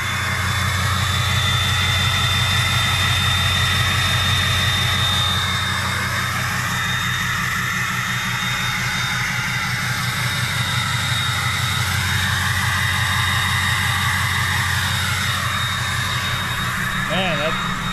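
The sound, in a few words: diesel truck exhaust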